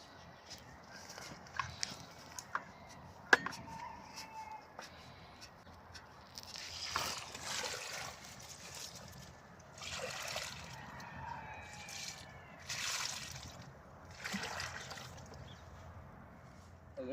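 Water poured onto a newly planted date palm, several bursts of splashing and trickling over soil with scattered knocks and rustles in between, fairly faint outdoors.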